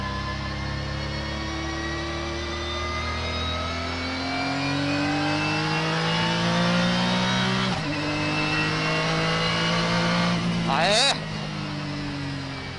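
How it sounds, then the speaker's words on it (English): A Honda NSX with a turbo engine accelerates hard, its rising engine note climbing steadily through the gears with a sharp shift near the end, loud and close, with people talking over it. "NSX ターボだよ。 すごすぎ。"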